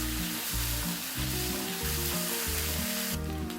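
Onions with ginger garlic paste sizzling steadily in a pan for vegetable kurma, a continuous close frying hiss with low rhythmic clatter from a pan or background music pulsing beneath.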